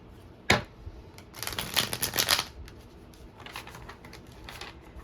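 Tarot cards shuffled by hand: one sharp snap, then a fast riffling burst of card flutter lasting about a second, followed by a softer second round of shuffling, close and clear in a quiet room.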